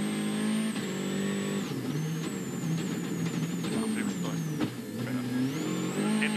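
A WRC rally car at the 2014 Monte Carlo Rally works through tight hairpin bends, its engine rising and falling in sharp revs with quick gear changes and a brief lift-off as it brakes through a corner, close and loud.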